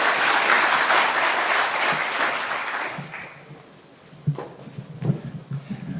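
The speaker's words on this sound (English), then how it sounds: "A round of applause," A crowd at an outdoor political event with President Ruto in Kiambu, Kenya breaks into loud, dense applause that holds for about three seconds, then thins into scattered claps and a few sharp knocks.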